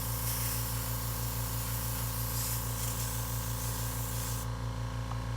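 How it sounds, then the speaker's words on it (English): Steady hiss of an airbrush spraying white paint onto a skateboard deck, continuous and close, with a low compressor hum underneath that carries on after the spray cuts out near the end. "sometimes the angle of your airbrush sprays paint in a way you don't want it to"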